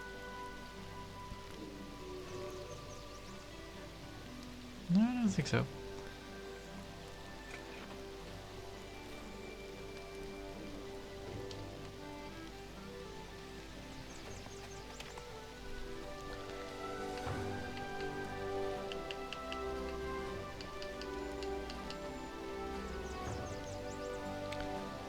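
Rain falls steadily in the video game Outward: Definitive Edition, a continuous soft patter with a brief louder burst near the start, while a person speaks briefly over it.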